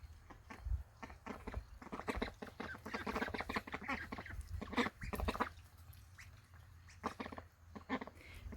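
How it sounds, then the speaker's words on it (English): Pet ducks about five and a half weeks old quack and chatter close by in a busy, overlapping stream of calls, with a short lull before the quacking picks up again. "So these are my ducks"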